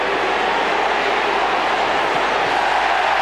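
A football stadium crowd at a Middlesbrough versus Manchester United Premier League match gives a loud, sustained roar of cheering that holds as a dense, steady wash for the whole stretch.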